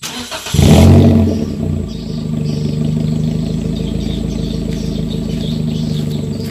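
A Toyota Grand New Avanza with its muffler removed starts up and revs loudly, then settles into a raw, rumbling idle close by.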